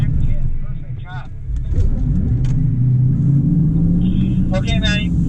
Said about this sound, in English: That's how you want to drive the Taycan.